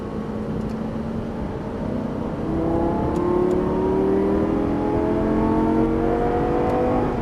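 Lamborghini Gallardo Superleggera LP570-4 engine pulling hard up through the gears, a steady loud drone with rising pitch sweeps at each shift, heard from inside the car with no talk.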